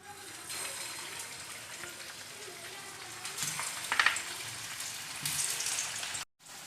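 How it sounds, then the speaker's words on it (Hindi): Kebabs frying in hot oil in a pan, giving a steady, close hiss and sizzle with light crackling that swells slightly midway and then cuts off abruptly near the end; faint speech sits under it. "इधर ये देखिए ऑयल भी गर्म हो चुका है। अब डालना स्टार्ट करते हैं इसके अंदर।"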